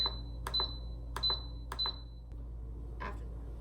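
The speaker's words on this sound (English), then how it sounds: "set the manual button here to 4 minutes, and it's on high pressure" Instant Pot pressure cooker control panel beeping as buttons are pressed, with four short high electronic beeps in quick sequence, each paired with a soft button click, then a faint clunk.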